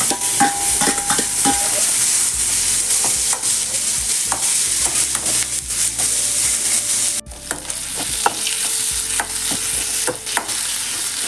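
Tomato sautéing with onions in a pan, a loud continuous sizzle with a spoon stirring and scraping in irregular strokes, close up, briefly dipping before resuming.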